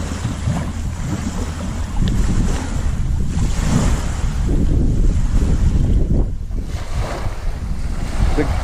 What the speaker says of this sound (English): Probably can't hear me over the waves.